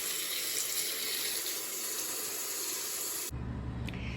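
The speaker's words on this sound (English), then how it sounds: "I'm gonna let my yoga mat soak in the water" Water runs in a steady, loud hiss to soak a yoga mat, like a tap or spray filling a basin, then cuts off abruptly near the end and leaves a quieter room tone.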